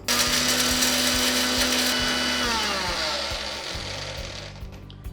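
A mixer grinder whirs loudly as whole coriander seeds, star anise, cloves, peppercorns, cinnamon, cumin and bay leaf are ground into a coarse spice powder, the motor droning steadily before slowing and winding down.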